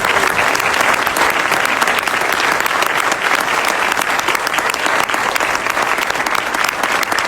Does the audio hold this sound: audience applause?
yes